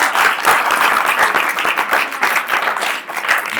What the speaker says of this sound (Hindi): जोरदार ताली बजाओ भाई अपने।